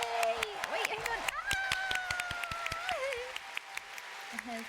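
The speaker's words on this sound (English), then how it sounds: "give him the biggest round of applause" An audience at the FFXIV NA FanFest fan event applauds and cheers in a dense, steady wash of clapping while someone speaks over it through the venue sound system.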